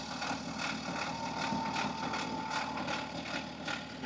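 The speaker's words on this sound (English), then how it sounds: "this is exactly what stretched timing chain sounds like on your BMW diesel" BMW N57/N47 diesel engine with a stretched timing chain, idling with a rhythmic metallic rattle repeating evenly over a low engine drone, recorded close with the mic beneath the engine, moderately quiet and without speech.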